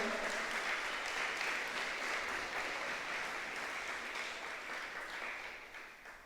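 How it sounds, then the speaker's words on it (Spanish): A church congregation applauding during a Spanish-language sermon, a dense, steady wash of clapping that holds for about six seconds and slowly fades toward the end, with no voices on top. "Dele un aplauso al Señor."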